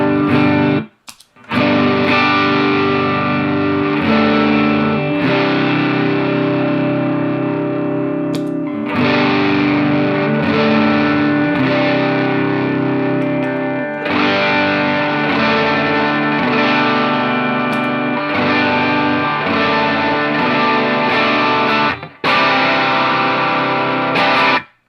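Overdriven electric guitar through Amp Eleven and JHS Kilt pedals plays sustained chords and riffs in several long passages, separated by brief silent gaps, loud and gritty with a chorus-like shimmer.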